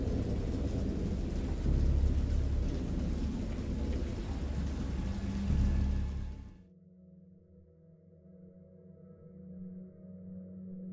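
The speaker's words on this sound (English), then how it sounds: "I heard peals of thunder and other tones which nature utters only in" Thunderstorm with heavy rain and deep rolling thunder, a loud dense roar that cuts off abruptly partway through, leaving a low faint rumble.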